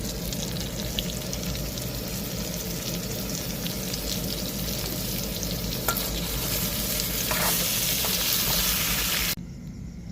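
Meat frying with onions and spices in a hot pan, a loud constant sizzle with scraping stirring strokes, continuous and close, ending abruptly.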